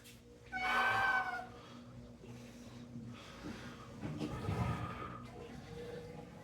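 Domestic pet cat meowing nearby, one clear drawn-out meow followed a few seconds later by a softer, rougher vocalization, with quiet room background between.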